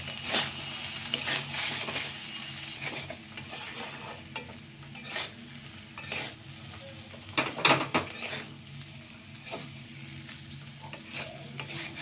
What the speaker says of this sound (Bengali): এবার এটাকে ফ্রাই করবো।